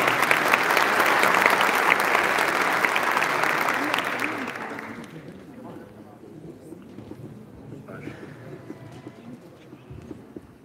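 Loud audience applause fills a hall at a Kayseri Caucasian association gathering as a speaker is invited to the stage. It swells strongly for about five seconds, then thins out and fades to scattered claps and room noise.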